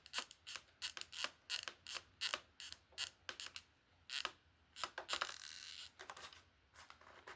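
A screw driven into the plastic tail fin of a Decathlon RJG 1.2m RC plane: a run of rhythmic ratcheting clicks and creaks from the screwdriver, close up, pausing briefly before a rougher scraping burst, with no talking.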